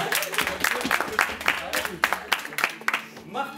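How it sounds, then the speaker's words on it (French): Scattered clapping from an audience at a school awards ceremony, with uneven bursts of hands under and between people talking close by. "On applaudit."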